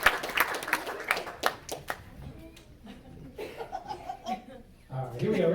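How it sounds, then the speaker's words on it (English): Audience clapping and laughter for two volunteers at a stage hypnosis comedy show at Clarion University, a lively burst of applause that fades, with chuckles and scattered voices over the quieter tail. "Give those two a big round of applause."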